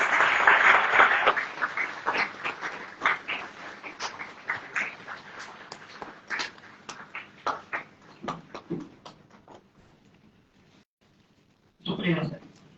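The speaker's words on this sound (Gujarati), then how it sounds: "તાળીઓનો ગડગડાટ થઈ જાય" Audience applause at a career guidance program for students planning higher studies abroad, breaking out in a loud burst at the start and dwindling into scattered claps, then a second short burst near the end.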